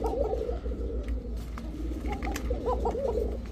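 A Giribaz highflyer pigeon in a breeding pair coos nearby, with soft repeated rolling coos over a steady low background hum and no talking.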